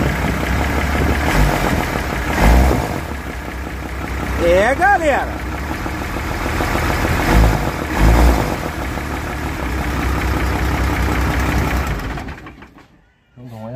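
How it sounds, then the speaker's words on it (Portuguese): A diesel bus engine idles steadily after a broken cylinder-head valve spring was repaired, its even mid-pitched rumble running under people talking, with oil being poured into the intake, before cutting out near the end. "Aí o ônibus pega rápido demais"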